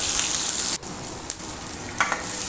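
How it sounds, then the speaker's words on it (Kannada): Tempering for lemon rice sizzles steadily in a pan with curry leaves, chilli, capsicum, onion and tomato, a close hissing fry broken by a brief pause and a few stirring scrapes. "ಇವಾಗ ಒಗ್ಗರಣೆನ ನೀಟಾಗಿ ಫ್ರೈ ಮಾಡ್ಕೊಳ್ಳೋಣ."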